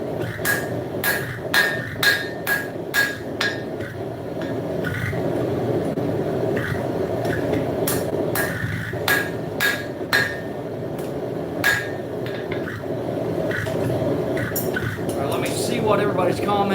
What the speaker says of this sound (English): I'm flattening out a longer portion, and you can use more than just the face of the anvil.